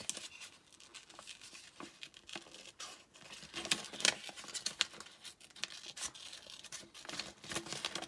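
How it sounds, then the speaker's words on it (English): Big scissors cutting cardstock for a junk journal, a dense run of soft snipping and papery rustles with irregular crisp clicks, close and unaccompanied by speech. "I use my big scissors when I'm cutting cardstock or paper"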